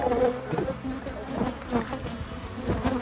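Dense buzzing of many honey bees swarming close by, a steady droning hum with a voice talking over it.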